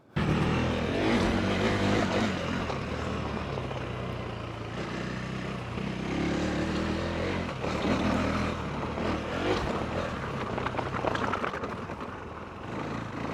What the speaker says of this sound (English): I might go cut a few laps there and just get a feel for how these tyres go